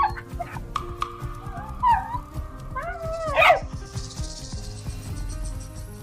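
A dog yelps and whimpers in a run of high, wavering cries, with a few sharp barks building to a loud peak near the middle, set against low rumbling and scuffling.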